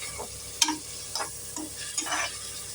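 Freshly ground masala sautés in a pan for Tamil Nadu mutton biryani, a soft continuous sizzle broken by three or four distinct stirring scrapes of a spoon against the pan, close and fairly quiet.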